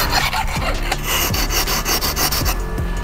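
A hydrofoil tailpiece is cut down by hand with rapid, rhythmic rasping strokes like sawing or filing, harsh and close, continuing steadily with no talking.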